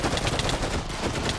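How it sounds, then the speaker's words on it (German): Fast game gunfire from a rifle in Minecraft roleplay, a short dense rattle of shots continuing steadily at close range. "Er schießt!"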